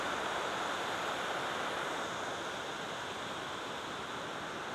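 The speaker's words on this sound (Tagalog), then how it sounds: "Kita nyo doon yung agos ng tubig" Water rushes down Pinlac Falls along the Marilaque Highway near Infanta, Quezon, making a steady, dense, broadband roar that holds at an even level without a break.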